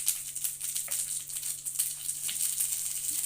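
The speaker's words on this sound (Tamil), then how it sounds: "அதுவும் பொரியட்டும். கூடவே ரெண்டு வரமிளகாய் போட்டிருக்கேன்." Two dried red chillies frying in a pan with moong dal, a steady fine sizzle with soft crackles and pops throughout, fairly close and continuous, with a low background hum.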